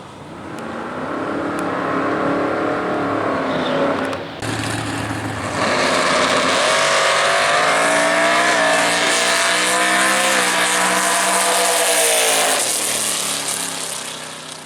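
A drag race car making a solo pass in the right lane at Worldwide Technology Raceway, loud engine roaring and revving up through rising gear-like pitch sweeps, with a brief dip then sustained high-revving howl fading at the end.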